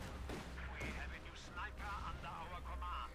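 Sniper rifle fire in the World War II strategy game Company of Heroes 2: a couple of sharp cracks set in a busy battle soundscape, heard under an excited commentator's voice.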